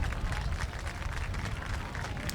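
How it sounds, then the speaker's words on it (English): Coaches, players and fans clap together at the close of a football scrimmage, a dense, steady patter of many hands mixed with open-air crowd noise throughout. "the coaches are clapping, the players are clapping, and the fans are."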